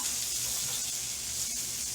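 Onions stir-fry in a hot wok for Pad Thai, giving a steady, dense hiss of sizzling that runs unbroken for the whole stretch, close by and with no talking.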